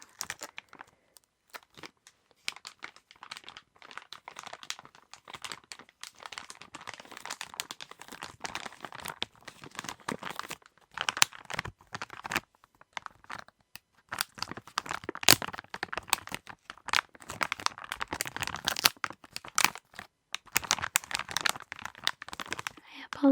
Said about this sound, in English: apologize if any of the crinkling sounds are abrasive